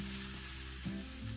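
Thin pancake batter sizzles steadily in a hot, lightly smoking non-stick frying pan, a close, even crackle and hiss throughout.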